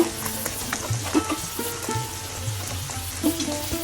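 Pumpkin pieces fry in a frying pan coated with spice paste, giving a soft, steady sizzle broken by a few clacks and scrapes as the pieces are added and stirred.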